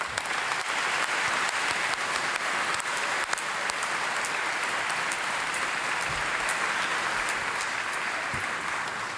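A congregation applauds in a church during solemn vespers closing the exposition of the Holy Tunic, a steady, dense wash of many hands clapping that fills the space for about nine seconds without talk.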